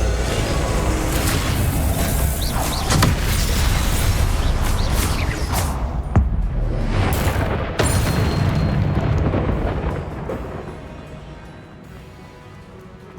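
Confringo blasting spells in the video game Hogwarts Legacy go off as a run of heavy booming explosions with whooshing bursts, loud and close, thinning into a fading rumble near the end.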